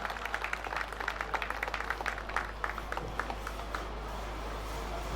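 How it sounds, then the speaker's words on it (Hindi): At a railway week award function, an audience applauds performers with a dense, steady patter of clapping over a low hum, fairly faint and distant, without speech. "आप कलाकारों के लिए जोरदार तालियां हो जाएं"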